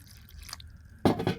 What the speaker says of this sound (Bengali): এখন দিয়ে দেব পানি।